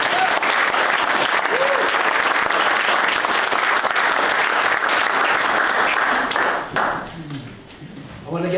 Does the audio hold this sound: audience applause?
yes